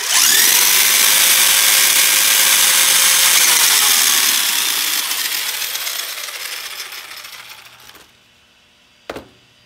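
A Redcat Blackout XTE RC truck with a brushed motor on a 2S LiPo revs at full throttle, a loud high whine that holds for several seconds, then slowly winds down and fades, followed by a sharp click.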